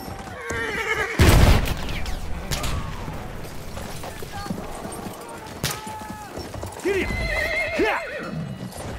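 A horse in Battlefield 1 gallops with rapid clip-clop hoofbeats and loud whinnies, under battlefield booms, shouted commands and other voices.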